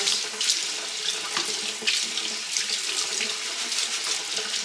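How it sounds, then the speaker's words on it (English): Rice being rinsed by hand in a sink under a running tap, with steady splashing and trickling water throughout and small bursts as the grains are swirled, close and fairly loud, with no talking. "Make sure to wash your rice. So I just rinse it like this, make sure the water gets through, swirl it around"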